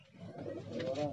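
Tonk pigeons give a soft, low cooing, brief and faint, close by in a loft.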